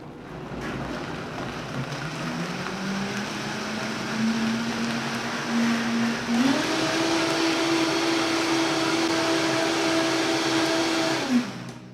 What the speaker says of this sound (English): So I'm gonna let it go enough that it's going to make it smooth